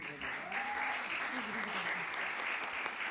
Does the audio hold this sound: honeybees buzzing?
no